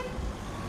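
Short car horn toot amid evening street traffic in East York, Toronto, heard at a medium distance over a steady roadway rumble.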